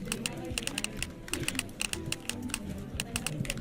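Rapid keyboard typing sound effect in a video game under development, a dense run of crisp clicks in an uneven rhythm, moderately loud with a faint background hum.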